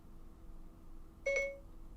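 A phone's Siri activation chime: a short, clear two-tone electronic blip that rises sharply out of a quiet room hum and then fades.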